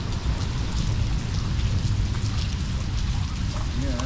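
Steady heavy rain pours down during a lightning storm beside exotic canals, a dense continuous hiss with no distinct thunderclap standing out, and a faint tonal sound near the end.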